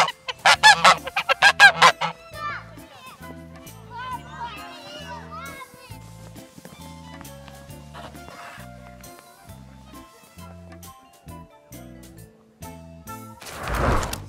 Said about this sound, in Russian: Сказочные гуси, привет!